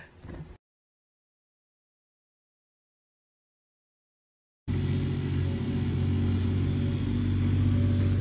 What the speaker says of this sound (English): I have to go drop Austin's Can-Am off, which I'm so scared to drive on the crosstown